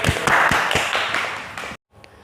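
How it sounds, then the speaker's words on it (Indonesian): Applause from an audience after a classroom presentation, a dense burst of many hands clapping that fades out, followed by a brief silence and faint room noise. "Tepuk tangan untuk"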